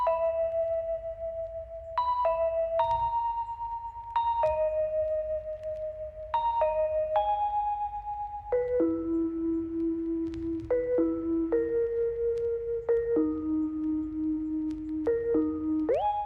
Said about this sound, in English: Now I have the Bell vinyl from the Cymatics Apex one-shot kit volume 3